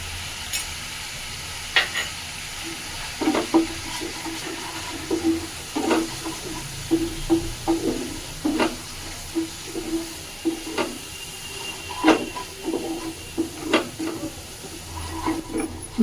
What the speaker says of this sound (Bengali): মশলাটা আমি কষছি ভালোভাবে,